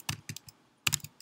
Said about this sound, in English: And then we can type conda install